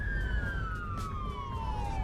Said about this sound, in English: sirens in the cities do get really irritating